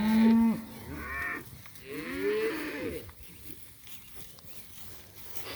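A cow in a farm herd moos several times, loud, close and drawn out, with pauses between calls and quieter mooing from other cattle behind.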